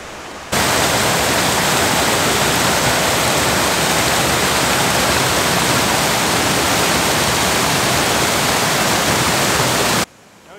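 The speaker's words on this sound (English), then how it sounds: "There's a waterfall over there we're gonna go look at" A waterfall seen during an off-trail mountain scramble gives a continuous, even rush of falling water for about ten seconds, full and close with no voices, then cuts off abruptly.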